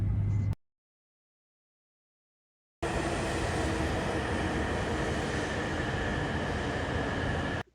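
A Shinkansen bullet train rushes along with a smooth, steady roar and airy whoosh, cutting in after a short silence and holding constant.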